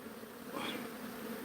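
Bees swarming in a wooden space with no comb, a faint, continuous droning buzz that swells briefly, heard close but at low level.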